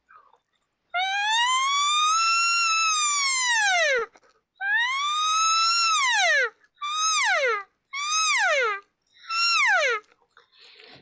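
A voice imitates an elk cow call: one long rising and falling squealing siren note, then four shorter, chopped calls with brief pauses between them.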